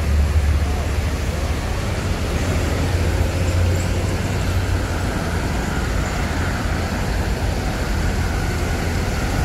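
ALS intercity Sumatra bus at the ALS terminal in Palembang, heard as a steady low engine rumble blended with constant roadway noise, loud and unbroken throughout.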